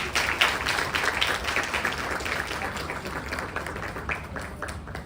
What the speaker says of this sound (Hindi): आप सभी लोग तालियों के साथ मैडम का सम्मान करें।